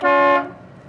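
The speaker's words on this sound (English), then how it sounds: "Horn works good." A 1940 Oldsmobile car horn gives one loud, steady honk of about a third of a second, then cuts off into low engine and road rumble.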